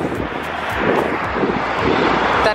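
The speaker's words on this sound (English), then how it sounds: "it's so windy, you probably can't hear me at all" Steady, roaring wind buffets the microphone throughout on Gran Canaria, a loud broadband rush with gusty swells and no voice over it.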